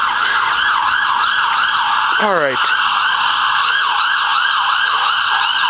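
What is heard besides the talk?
ambulance siren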